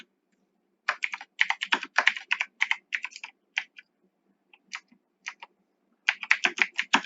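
Quick bursts of keystrokes on a computer keyboard, close and crisp, tapping in irregular clusters with short pauses and a brief lull before a final rapid run.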